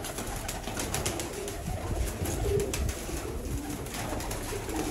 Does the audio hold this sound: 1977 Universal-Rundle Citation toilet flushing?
no